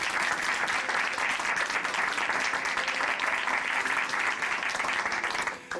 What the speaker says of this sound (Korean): 오늘 간증해주신 이길자 자매님께 다시 한번 감사의 박수 부탁드립니다